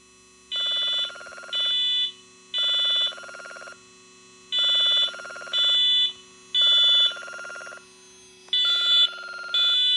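A loud electronic alarm tone from a Radionics D8112 alarm panel demo board pulses on and off in a steady, repeating rhythm of short buzzy bursts, with no voices.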